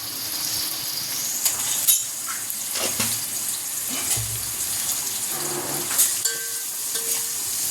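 Onion with a pinch of salt fries in a pan for a home-cooked chicken dish, making a constant moderate hiss with scattered clicks and stirring knocks; nobody speaks.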